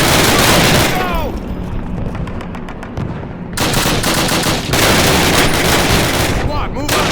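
Loud, sustained automatic rifle and machine gun fire in a World War II Call of Duty battle, with dense rapid bursts, a brief lull of spaced single shots, then renewed heavy firing, while soldiers shout orders over the din.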